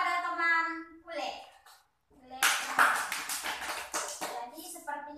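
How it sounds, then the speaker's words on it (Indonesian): Classmates give a short round of applause in a microteaching biology lesson on protists. It is a burst of clapping that follows the teacher's voice and a brief pause, and talk resumes near the end. "kita beri teman aplaus kepada teman Ule"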